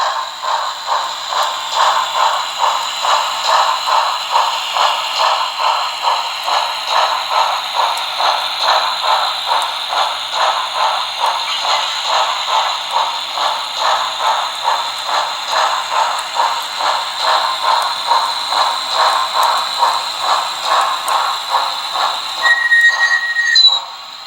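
An HO scale BLI Reading #217 Light Pacific steam locomotive model gives off a fairly soft, steady run of rhythmic chuffing with mechanical clatter at a quick, even pace. A short squeal is heard near the end.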